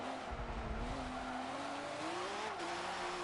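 Nissan Altima V8 Supercar racing in Forza 7 at Circuit of the Americas, a steady loud engine drone with a shifting pitch, tyre noise and a brief low rumble early on, with no talking.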